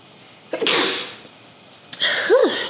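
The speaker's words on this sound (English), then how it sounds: "Excuse me, I'm about to sneeze." Two close, sharp sneezes from one person about a second and a half apart, each a sudden burst that fades out, the second with a short voiced catch.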